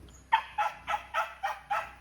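Six evenly spaced chicken calls ring out in a steady rhythm, each a short harsh squawk, close and clear against a quiet background on a mountain property in the Philippines.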